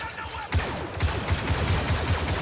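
Rapid bursts of automatic gunfire and blaster shots from the Star Wars Battlefront 2 video game erupt after a quiet half-second, continuing as a dense, steady barrage with repeated sharp impacts throughout.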